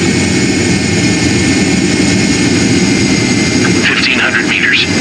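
Steady roar of a jet fighter engine on landing approach in Ace Combat 7, loud and continuous, with a radio voice talking over it.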